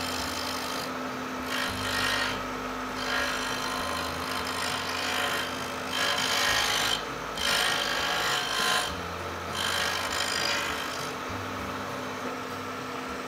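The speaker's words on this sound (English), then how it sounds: "Same procedure again, full speed on the lathe," A wood lathe runs at full speed while a threading jig takes a very light cut into wood for a box with a threaded lid. It makes a continuous rasping, scraping hum that swells and eases in repeated passes, close and steady.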